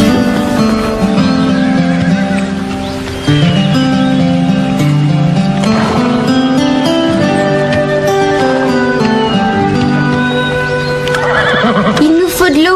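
Horses neigh and hooves clip-clop at a riding stable, heard beneath continuous layered music that stays loud throughout.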